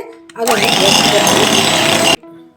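An electric mixer beats cream cheese for a no-bake strawberry cheesecake, a loud steady whirring burst lasting about two seconds, with quieter sound before and after.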